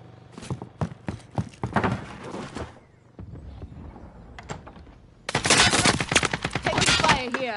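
Gunfire in a shooter video game cracks out in rapid bursts and single shots, then pauses before a loud, dense volley of automatic fire closes the stretch.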